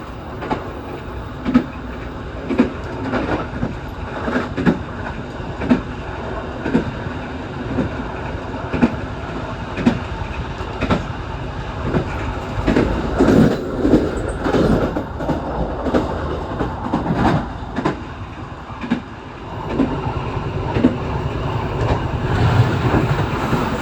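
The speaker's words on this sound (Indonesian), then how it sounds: "ini berhubung kita berada di kereta yang paling belakang, ini kereta ekonomi 4" Steady rumbling of the rearmost economy carriage of a long-distance Indonesian train rolling on rails, with rhythmic clickety-clack of wheels over joints and occasional rattles, continuous throughout.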